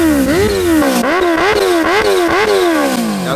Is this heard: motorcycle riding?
yes